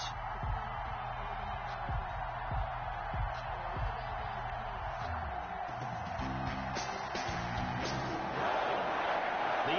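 A stadium crowd roars in a steady, distant wash in an EA Sports NFL video game before a Detroit Lions versus Green Bay Packers matchup, with rhythmic low thumps and swells beneath.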